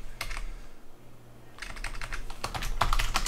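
Rapid close-up typing on a computer keyboard while setting up a Raspberry Pi web server, a brief pause then denser bursts of key clicks; no voices.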